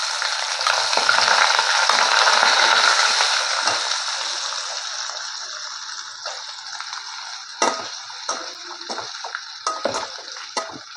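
Onions frying in hot oil with bay leaf, a small piece of cinnamon and stone flower for a Tamil pepper chicken, a steady close sizzle that fades and thins, broken by a few sharp stirring clatters near the end.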